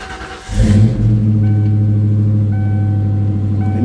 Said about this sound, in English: once it warms up and comes in the closed loop, you can hear the cam pretty good